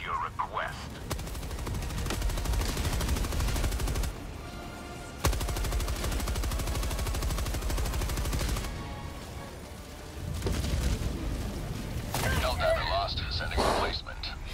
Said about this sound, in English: Rocket launcher on the tank.